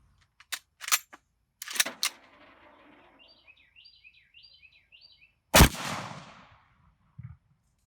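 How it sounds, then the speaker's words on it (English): Shots fired in testing at a Beehive Barrier: sharp loud reports in a quick string early on, then a single heavy blast, with bird chirps faintly in between and a final softer pop. "but 10 rounds of saturation fire"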